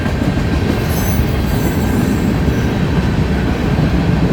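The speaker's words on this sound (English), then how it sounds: "Watch the train." A westbound train rolls past up close on an April evening, loud continuous rumble of railcars with rhythmic wheel clatter and occasional squeal, steady from start to end without talk.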